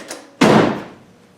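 A Land Rover Defender door slams shut once, close and loud, with a heavy thud that fades quickly, preceded by a faint click.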